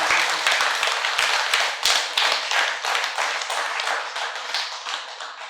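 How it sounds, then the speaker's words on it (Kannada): Steady, moderately loud applause from a seated audience at a meditation gathering, with dense overlapping claps that hold for several seconds and slowly thin out. "ಜೋರಾದ ಚಪ್ಪಾಳೆ ಮೂಲಕ ನಾವು ಕೃತಜ್ಞತೆಗಳನ್ನು."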